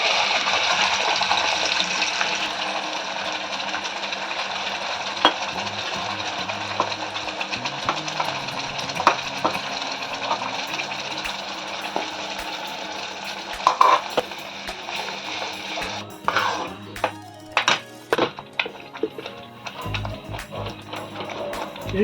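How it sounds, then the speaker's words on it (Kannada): Masala sizzling in hot oil with cumin in a pan while being stirred, a steady close frying hiss with scattered scraping clicks of the spoon toward the end. "ಈಗ ಮಸಾಲ ಹಾಕ್ತೇನೆ."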